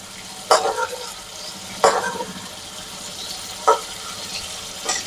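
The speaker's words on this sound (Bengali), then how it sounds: "মাছগুলো আমার দুই পিঠে ভালো করে মশলার সাথে ভাজা হয়ে গেছে" Hilsa fish frying in spices in a pan, a steady sizzle with four sharp bursts of stirring or flipping spaced a second or more apart, close and fairly loud.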